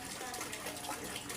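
Water pouring into a bucket, about 14 liters, as a steady, faint gushing splash with no break over the short span.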